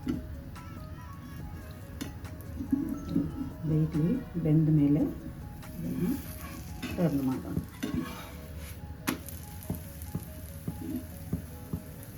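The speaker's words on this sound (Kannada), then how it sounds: "ಹೋಳಿಗೆನ ಕಾವಲಿ ಮೇಲೆ ಹಾಕಿ ಮೇಲೆ ಎಣ್ಣೆ ಹಾಕಿ" Obbattu (holige), a sweet chana dal flatbread, cooks on a hot tava with oil added on top, giving a soft sizzle with scraping and clinks of a spatula against the pan. A voice speaks over it at moments.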